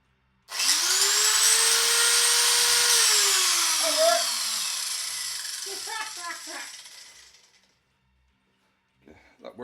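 A 115 mm angle grinder spins up to a loud, steady high-pitched whine, holds it for a few seconds, then winds down with rattling as it coasts to a stop. Faint talk follows.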